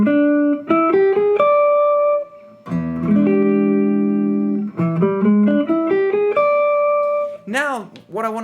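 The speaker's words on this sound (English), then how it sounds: "If I can play this an octave up and then connect both, I got my arpeggio in 2 octaves" An electric guitar plays an arpeggio spanning two octaves, with clear single notes rising and falling and some held tones, loud and close, ending with a brief warbling bend. No one speaks during it.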